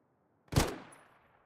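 A single sharp gunshot rings out in a competitive tactical shooter esports match on the map Derailed. It is close and loud, with a decaying tail that fades over about a second, and there is no talk.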